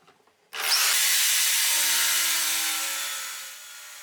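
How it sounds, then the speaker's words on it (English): A power drill with a drill guide starts abruptly and bores a round mortise into wood with a high whining grind, holding for several seconds before easing slightly toward the end. "I drill the round mortise"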